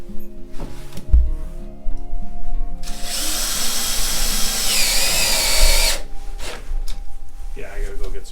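A power drill drives a screw into wood while building for chickens, a sustained whirring burst of about three seconds between quieter handling knocks, with people talking around it.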